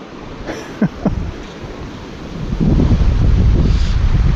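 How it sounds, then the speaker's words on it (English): Wind buffeting an outdoor microphone while fishing, a steady roaring rumble with a few sharp gusty thumps early on, then growing louder and denser for the last couple of seconds. "Wind's messing with me."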